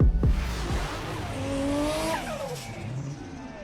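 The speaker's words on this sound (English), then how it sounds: "2025 Honda Monkey bike. It absolutely rips." A 2025 Honda Monkey motorcycle fitted with an aftermarket AliExpress exhaust, revving loudly up and down with rising and falling engine pitch, close by, alone.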